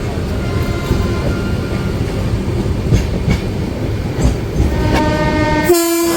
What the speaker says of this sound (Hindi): झारखंड स्वर्ण जयंती एक्सप्रेस।